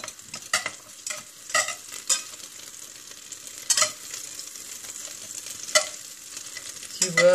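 Butter melting over low heat in a pan, a soft sizzle with intermittent scraping stirs of a utensil, close up and quiet.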